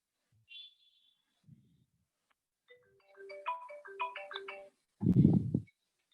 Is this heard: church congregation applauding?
no